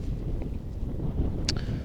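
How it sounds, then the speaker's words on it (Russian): Strong wind buffets across the frozen Moscow River during winter fishing, a steady low roar of gusts rumbling close into the microphone with a brief faint knock near the end. "Ветер очень сильный"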